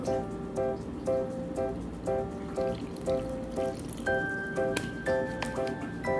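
A spoon or whisk beats fish fry batter of flour, paprika, salt, pepper, olive oil and water in a bowl, steady repeated wet strokes with faint clinks against the bowl, under quiet background music.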